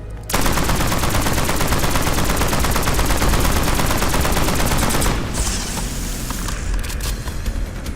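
A weapon test-fired in Black Ops 7, one long unbroken burst of rapid automatic fire with an even, fast rhythm, loud and close, easing slightly in the final seconds.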